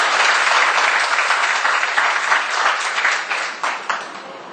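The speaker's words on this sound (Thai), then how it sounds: "ขอเสียงปรบมือให้กับทั้งสองท่านด้วย" Applause from an audience at a Thai album launch event, a dense wash of many hands clapping that stays steady, then thins toward the end as individual claps stand out.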